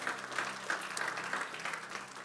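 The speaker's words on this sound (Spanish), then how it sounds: "Denle un aplauso fuerte al Señor, porque Él es bueno." A church congregation applauding, a brief burst of steady, even clapping from many hands at moderate distance, without cheering.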